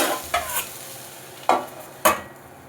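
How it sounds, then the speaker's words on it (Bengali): Vegetables and a small tomato fry in a pan, giving a soft continuous sizzle broken by four distinct scraping stirs of a spatula, close and fairly loud. "সবজিগুলো ভাজা হয়ে গেছে, এগুলো তুলে নেব।"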